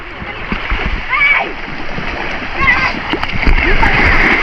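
Waves splash and slosh against a small boat on open water, irregular surges rising and falling close by, with children and adults chattering over the water noise.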